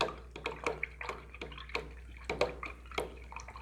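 Paintbrush rinsed in a water cup during acrylic flower painting, a short series of close swishes, taps and small splashes in irregular rhythm, with no talking.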